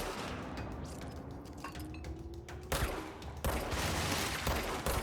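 Gunfire in the Control game, bursts of shots with sharp thumps at a moderate distance, no one talking.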